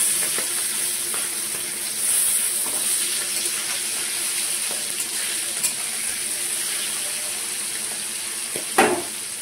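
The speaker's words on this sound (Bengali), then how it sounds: "এদিকে কড়াইটা গরম হয়ে গেছে, মাছগুলো ভেজে নেব।" Hilsa fish fry in a hot wok with a steady, close hiss of sizzling oil and a few faint clinks and scrapes; no one speaks.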